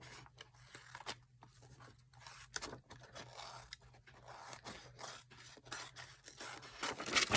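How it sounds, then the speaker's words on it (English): Scissors snip and scrape close up around the edge of paper envelopes in a steady run of short, quiet cuts with soft rustling of the paper. "now we'll just cut around this edge"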